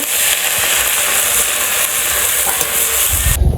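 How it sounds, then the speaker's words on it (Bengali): Jute leaves cook in a pan as water is added, giving a loud, continuous sizzle and hiss with steam, steady throughout and briefly dipping at the very end. "শাক লবণ দিয়ে দেই পাট শাক জল দিয়ে দিল দিদি"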